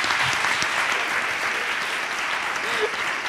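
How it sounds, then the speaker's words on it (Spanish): A live audience at a comedy interview show bursts into sustained clapping, dense and fairly close, with a few voices mixed in. "Claro que sí, un aplauso para ella."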